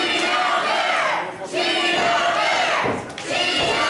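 A loud wrestling crowd at a PPW PowerSlam event cheers and roars steadily, rallying behind a wrestler, with brief dips in volume and a commentator talking over the din.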